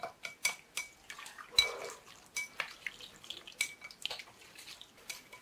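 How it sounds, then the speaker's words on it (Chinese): Chopsticks whisk egg white, salt and starch in a bowl, making a rapid irregular series of light clicks and taps against the rim, close and quiet with no speech. "用筷子搅拌均匀。"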